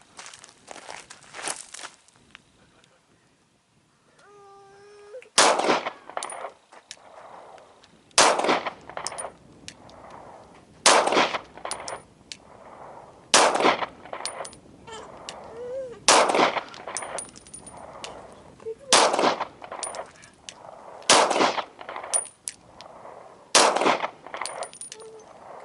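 Ruger 9E pistol firing 135 grain Hornady +P Critical Duty rounds, about ten sharp shots at an even pace at an outdoor range, each a loud crack with a short ringing tail.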